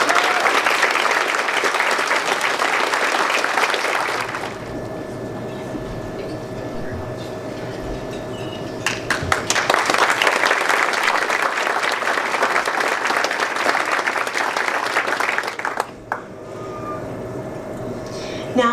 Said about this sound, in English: Please help me in a round of applause